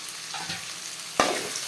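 Tomatoes fry and get stirred in a pan while cooking chicken thokku, a steady soft sizzle with one sharper scrape of the spoon partway through, close and unaccompanied by voices.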